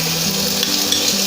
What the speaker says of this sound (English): I'll let the chicken fry.